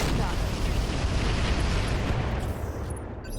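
A weapon shot explodes on a building in the video game RogueTech, a dense rumbling blast and debris roar sustained for several seconds before easing off.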